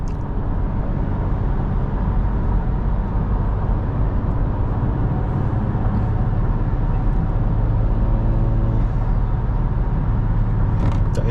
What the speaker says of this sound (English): the intake noise never gets old at all